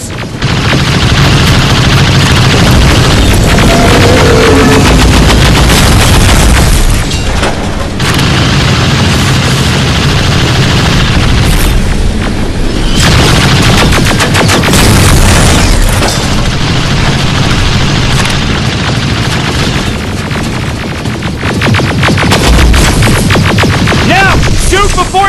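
Loud, continuous barrage of booming explosions and bursts of gunfire from a video game battle, dense and chaotic across the whole stretch, with brief lulls between heavy blasts.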